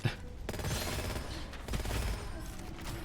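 A video game gunshot landing a headshot, several loud, close, sharp cracks bunched together within a few seconds over continuous game background noise.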